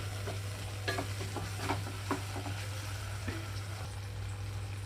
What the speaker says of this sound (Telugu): ఇప్పుడైతే గ్రైండ్ చేసి పెట్టుకున్న కొబ్బరి పుదీనా పేస్ట్ అంతటిని ఇందులోకి వేసేస్తున్నాను